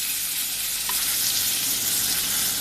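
Hot oil sizzles steadily and loudly, a continuous crackling fry of cumin seeds and bay leaves with no voices.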